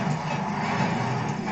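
A bulldozer's engine runs in a steady, low, continuous drone at moderate loudness, with no breaks or changes in pitch.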